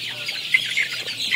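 Sonali hybrid chickens cluck and murmur together in a farm shed, a steady flock chatter at moderate distance with no talking.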